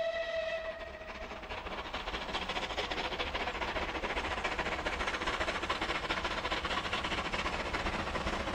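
A Bulleid rebuilt West Country Pacific steam locomotive, without its air-smoothed casing or chain-driven valve gear, runs with a loud, steady roar and rhythmic chuffing. A brief whistle tone sounds at the start, and no voices are heard.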